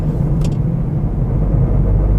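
A petrol Hyundai i10 Magna idles with a steady low engine rumble, continuous and close, with a brief faint tap near the start and no talk.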